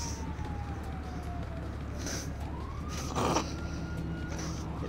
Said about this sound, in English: It literally blared the sirens for about 2 seconds